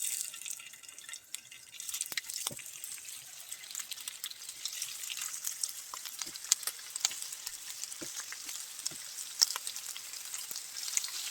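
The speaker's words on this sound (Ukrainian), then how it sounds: "Підсмажимо м'язко з двох сторін до золотистої скориночки" Meat is browned on both sides in oil in a hot frying pan, sizzling steadily with a soft continuous crackle and scattered sharper pops and spits.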